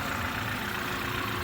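A BMW 530e B48 petrol engine idles after an oil filter housing and coolant leak repair, giving a steady, even hum with no surges, heard close and alone.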